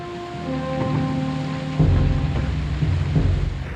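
Stormy weather with rumbling thunder and steady rain, loud and close throughout, with a deeper rolling boom partway through under a layer of tonal background sound.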